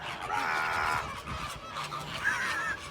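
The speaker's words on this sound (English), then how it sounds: "the Flamingos" Flamingos at a Busch Gardens Tampa enclosure give nasal, goose-like honks in two short bursts, moderately close over a soft outdoor background.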